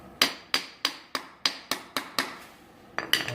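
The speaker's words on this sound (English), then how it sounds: "Now, it takes a few whacks, and as you can see, it starts coming off." Sharp metallic whacks on a screwdriver driving a tie rod boot off an EVO/DSM steering linkage, about nine loud, evenly spaced strikes, each with a short ringing decay, then a brief pause and two quicker hits at the end.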